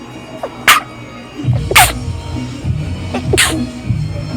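Three sharp, short sneezes spaced about a second apart, close and loud over a low background rumble.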